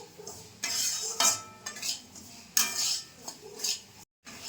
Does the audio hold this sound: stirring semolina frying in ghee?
yes